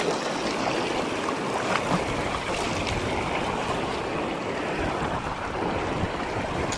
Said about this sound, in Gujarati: ઝીણા ઝીણા ઝરણાય છે નદીમાં જતા.